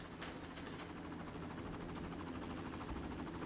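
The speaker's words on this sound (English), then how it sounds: "Oh, helicopter again." A steady, rapid chopping whir of helicopter rotors in the video game Far Cry Classic drones continuously at moderate volume, with no talking.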